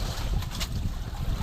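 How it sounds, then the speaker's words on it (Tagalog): Rough sea around a small fishing boat off Mindoro: big waves slosh and splash close by under steady wind rumbling against the microphone, a dense continuous wash with brief splashy peaks. "Malalaki ng alon"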